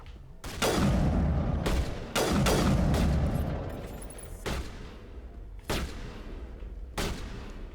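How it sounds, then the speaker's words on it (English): Sniper rifle fire in the video game Mass Effect: Legendary Edition, several sharp loud cracks at irregular intervals, some in quick pairs, each decaying with a short echoing tail over a low background. "That is a lot of sniper rifles."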